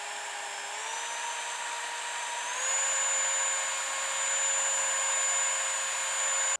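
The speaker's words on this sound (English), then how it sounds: "So we've got a scratch right here that we're gonna sand out." Handheld drill spinning a sanding pad against soft plastic to remove a scratch, a steady close high-pitched whine whose pitch steps up slightly as it runs, alone without talk.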